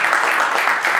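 Dense, steady clapping from an audience at a self-esteem conference and book signing, loud and continuous for a brief moment.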